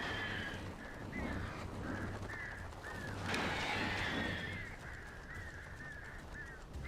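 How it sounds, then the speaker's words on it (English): Birds in the Alan Wake Remastered video game give a series of honking, goose-like calls, repeated at a fairly regular rhythm over a low droning game background. "Oh, that sounds like birds."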